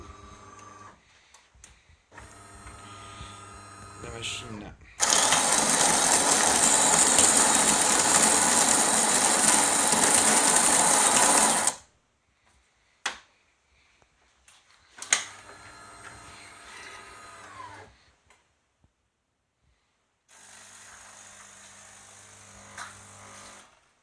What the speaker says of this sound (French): la machine procède à un pré-mouillage de la mouture.